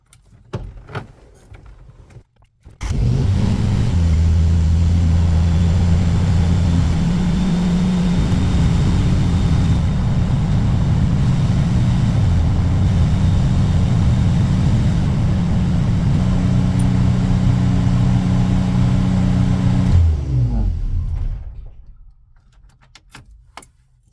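A Jeep YJ with a high coolant temperature fault starts abruptly and settles into a loud, steady, close-up engine rumble, then shuts off and fades into near quiet.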